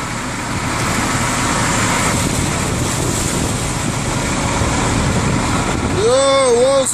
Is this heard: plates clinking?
no